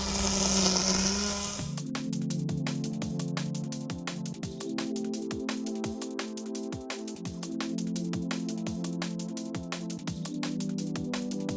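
A GTM 36 V, 900 W cordless battery grass trimmer cuts through grass, a steady high electric motor whine with rapid rhythmic ticking and whipping as the line strikes stems, following a brief burst of broadband rustle.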